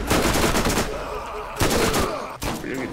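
Gunfire in the shooter game Borderlands, with repeated loud bursts of shots in uneven clusters separated by short gaps, and no voices over it.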